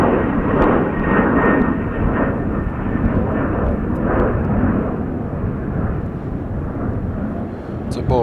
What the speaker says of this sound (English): It's a Boeing 787 Dreamliner.